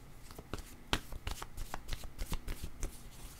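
Tarot cards being shuffled by hand, a rapid run of crisp riffling flicks and soft slaps repeating close up, heard alone without any voice.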